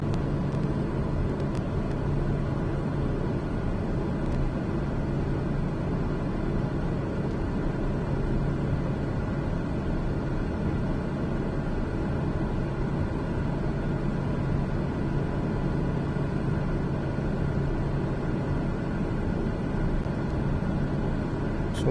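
An aircraft engine runs at high throttle around 70% torque on a flight from Saunders Island, a steady, even drone and whir that fills the cabin for over twenty seconds without talking.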